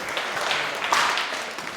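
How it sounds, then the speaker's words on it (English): A theatre audience applauding at a live stunt show, a dense wash of many hands clapping at once, loud and steady, with a faint voice underneath. "Round of applause for them"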